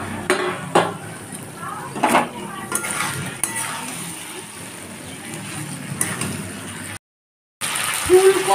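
Fried cauliflower and potatoes being sautéed in spice paste, with repeated clanks and scrapes of a metal spoon against the pan over a low sizzle, close and fairly loud, then a brief pause.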